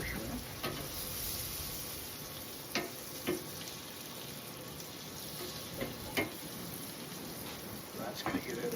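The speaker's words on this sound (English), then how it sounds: "Melt some more butter here." Butter melting on a flat-top griddle beside shrimp, a soft continuous sizzle with scattered spatters and light clicks throughout.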